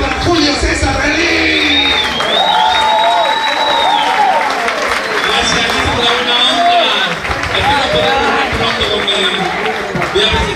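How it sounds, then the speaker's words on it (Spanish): A crowd at a live show in Jiki, Tortuguitas applauds and cheers loudly and continuously, with whoops and shouts rising above the clapping. "El aplauso para mi compañera, para Julio César Relí."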